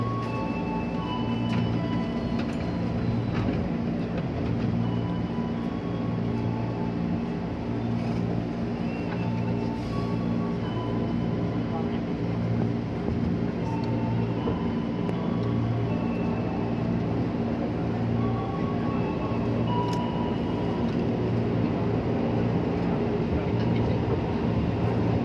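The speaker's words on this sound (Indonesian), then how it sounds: "Kereta persiapan untuk diberangkatkan kembali" An INKA-built KRL electric commuter train pulls away from a station on the Lenteng Agung line, its steady motor hum and rolling rumble continuous and moderately loud, with faint clicks and rattles throughout.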